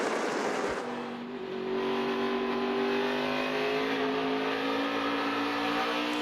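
NASCAR Xfinity Series stock cars race at Richmond, a steady loud engine drone with rising harmonic whine as several cars pass close together, sustained throughout with no talk.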